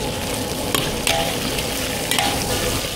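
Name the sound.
frying shrimp in oil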